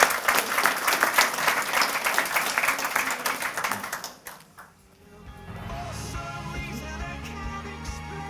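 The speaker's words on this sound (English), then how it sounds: "I would like everyone to give a big round of applause to our panelists" Big round of applause for the panelists at the end of a FinTech panel session, dense clapping from an audience for about four seconds, then fading out as quieter room sound and faint background noise take over.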